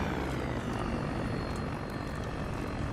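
A steady, dense mechanical roar of a care package helicopter arriving in Call of Duty: Black Ops III, loud and unbroken throughout with no voices.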